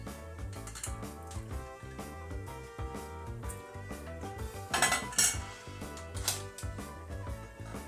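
Plates and cutlery clink and clatter repeatedly while boiled Nepali momo are served onto dishes, the rattling contacts close and steady with no talking.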